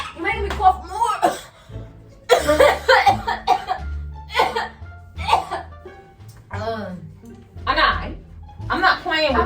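A person coughs in repeated bursts, mixed with laughing, loud and close.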